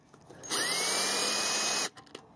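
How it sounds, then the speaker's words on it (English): A power drill backs screws out of the stainless steel band on a 1944 CRT TV: one close, loud whirring burst of just over a second, then a faint clatter as it stops. "So what I do for those is I just grab my drill, just take the drill, put it in,"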